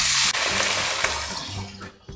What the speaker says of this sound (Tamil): இப்ப நான் 2 டம்ளர் தண்ணி சேர்த்துக்கிறேன்.